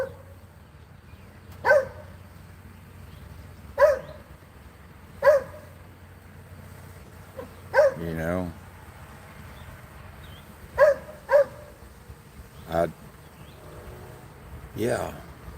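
Dog barking outdoors on a porch, sharp single barks spaced every second or two across the stretch, fairly close and loud, with a person talking in between.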